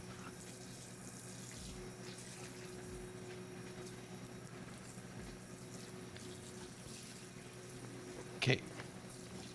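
A kitchen tap runs in a steady, moderate stream that fills the whole stretch, with a brief louder clatter near the end and faint low hum beneath.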